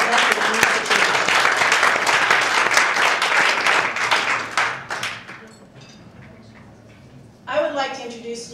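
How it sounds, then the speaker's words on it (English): Audience applause for a speaker at a Rio Grande Foundation event, dense clapping for about five seconds that fades out, followed by a pause and then a voice starting to speak. "I just think we need to give him a round of applause"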